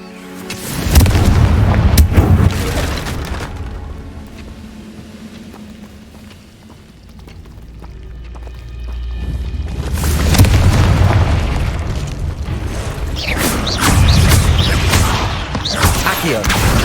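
Confringo blasting spells in Hogwarts Legacy set off heavy booming explosions in three separate clusters, each with a loud crackling burst that fades out before the next volley.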